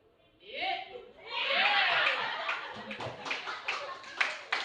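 A group claps hands during a guided movement exercise. A voice is heard first, then a broad wash of sound gives way to irregular, sharp claps that build toward the end.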